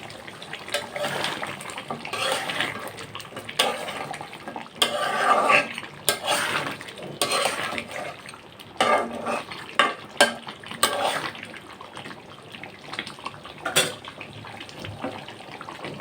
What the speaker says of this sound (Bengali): আমি আবার ঢেকে দেব ঢাকনাটা উঠিয়ে আবার নাড়াচাড়া দিয়ে দেবো